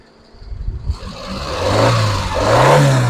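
A 2007 Suzuki Alto VXR with manual transmission idles after starting; the small engine hums steadily and rises slightly in level, running close and alone without talk.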